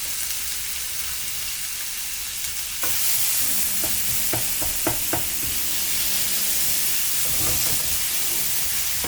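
Vegetables drop into a hot pan for ackee and saltfish and at once break into a loud, steady sizzle, with a few sharp scrapes and knocks of stirring under the hiss.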